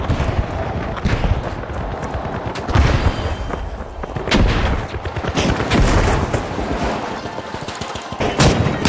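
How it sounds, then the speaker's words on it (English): Frag grenade blast amid constant gunfire in the video game The Finals, a dense, loud barrage of shots and booms with no letup. "Frag grenade out."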